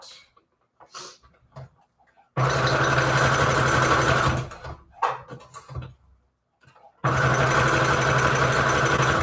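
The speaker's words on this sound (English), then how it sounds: "I think I'm just going to sew this one together like that" A sewing machine stitching paper strips together runs in two loud, steady bursts of rapid mechanical whirring, split by a pause with brief talking and rustling.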